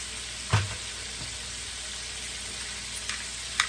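Shrimp frying in a pan, a soft steady sizzle under a few sharp clicks and clinks of utensil against pan, with one louder knock early and quiet ticks later.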